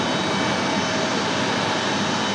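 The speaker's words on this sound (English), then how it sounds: "737 MAX 8 for United" United Boeing 737 MAX 8 jet at Raleigh-Durham airport, a steady broadband jet engine roar, loud and constant without break.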